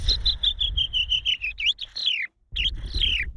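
A person whistles an imitation of a chaffinch's song up close, a rapid run of descending chirps ending in a flourish, then a short pause and another trill.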